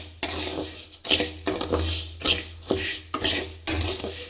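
Rice is dry-roasted in a pan until reddish for a village-style sweet snack. A utensil scrapes and clatters against the metal in a steady rhythm of about eight loud strokes.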